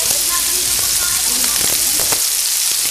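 Garlic and onion fry in a little oil for higado, a loud, dense, continuous sizzle close by with scattered pops and light utensil taps over the steady hiss.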